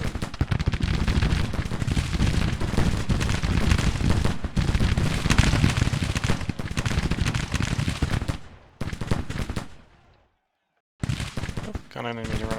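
Troops in the Civil War strategy game Grand Tactician: The Civil War fire muskets in a dense, crackling volley that rolls on continuously and loudly, then breaks off abruptly into near silence before a few more shots return.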